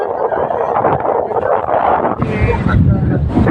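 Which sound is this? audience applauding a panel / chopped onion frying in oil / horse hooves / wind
wind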